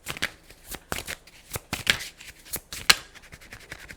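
Tarot cards are shuffled in quick, crisp riffling bursts, close up, repeating irregularly with brief pauses between.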